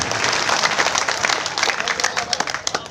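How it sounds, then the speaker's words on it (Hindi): An audience at a mushaira poetry gathering breaks into loud, sustained applause, dense clapping filling the hall and thinning into scattered claps toward the end. "सारे लोग अपनी तालियों की गूंज में मुझे यकीन दिलाएं"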